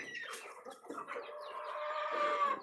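Pet chickens cluck close by while a rooster crows, the long crow building toward the end over the continuing flock chatter.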